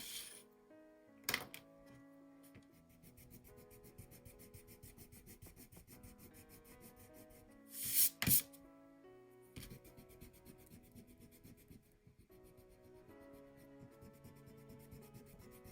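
An eraser rubs back and forth over pencil lines on paper in short, soft scrubbing strokes, quiet and close, with two sharper louder bursts partway through.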